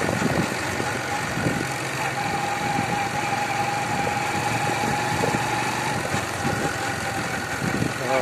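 A vehicle engine drones steadily on a road in dense winter fog, a continuous low rumble with faint vibration and no break throughout.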